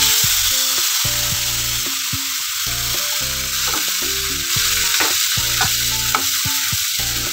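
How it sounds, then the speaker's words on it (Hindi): Onion paste going into hot oil with crackled whole spices for masala soya chaap, giving a loud, steady sizzle broken by repeated scraping stirs of the spoon; no voices. "मैंने ये जो प्याज का पेस्ट बनाया था उसे डाल देंगे।"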